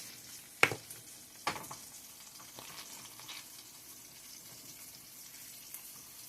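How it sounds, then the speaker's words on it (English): Two tablespoons of sausage grease sizzling and crackling in a frying pan for homemade gravy, a soft steady frying hiss with a couple of sharp clinks near the start, no talking. "We're going to pour in 2 tablespoons of sausage grease."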